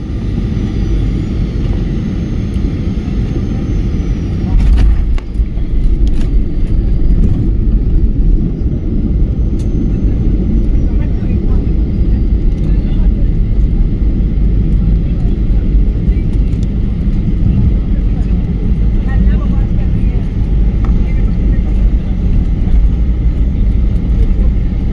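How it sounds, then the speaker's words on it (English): Low, steady rumble of a SpiceJet airliner landing at Shirdi airport, heard from inside the cabin, with a brief bump near the start and continuous loud engine and road noise throughout. "Enjoy the landing at Shirdi."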